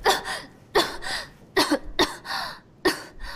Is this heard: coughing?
yes